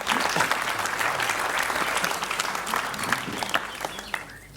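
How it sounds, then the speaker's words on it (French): Spectators at an improv show about climate change applaud a volunteer brought on stage, a close, sustained burst of clapping from a full room that tapers slightly at the end. "On peut applaudir Mathieu"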